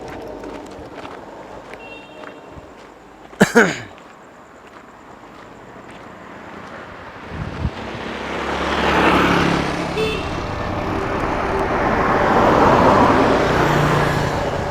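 A car setting off by a riverside with no barrier, its engine and tyre rumble rising and staying steady after a door thump, with wind across the microphone and no talk.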